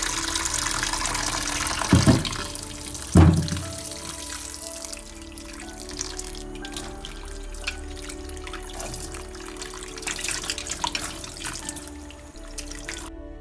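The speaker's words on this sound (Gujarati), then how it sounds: "વટાણા બફાય ત્યાં સુધીમાં પેટીસ બનાવવા માટે બટેટાને ધોઈ લઈશું" Potatoes being washed under a running kitchen tap, water splashing and trickling steadily into the sink with a couple of louder clunks and splashes early on, close and continuous without talk.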